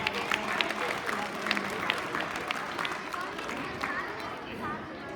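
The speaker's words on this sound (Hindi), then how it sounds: "सभी तालियां बजाकर उत्साह देंगे।" Clapping from a school audience at a prize-giving during a Grandparents' Day celebration, moderate and fairly even with some sharper claps standing out, mixed with crowd chatter and a bit of background talk.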